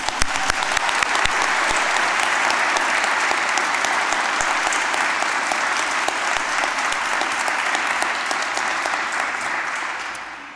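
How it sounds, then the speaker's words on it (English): A graduation ceremony audience gives a sustained round of applause for the graduates, a dense, loud and steady clapping that lasts throughout and tapers slightly at the end. "one final round of applause for all the graduates"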